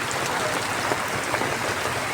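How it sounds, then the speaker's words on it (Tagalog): Heavy, unrelenting rain falls in a steady, dense hiss that fills the whole stretch without a break, close and fairly loud. "Grabe ang ulan, oh, wala na talagang tigil."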